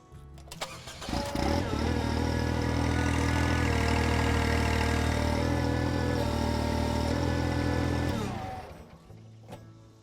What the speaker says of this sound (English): get on the tractor, turn the machine on, and retract the hydraulic flip-up cylinder all the way